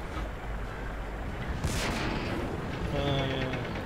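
Tank cannon fire in World of Tanks, a tank destroyer battle: a single booming shot lands mid-clip over a continuous rumbling engine and battle din.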